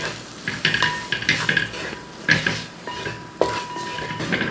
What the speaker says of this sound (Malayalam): ഇപ്പോൾ അത്യാവശ്യം പൊടികളൊക്കെ ചേർത്തതിന് ശേഷം നമുക്കൊന്ന് ഇളക്കി കൊടുക്കും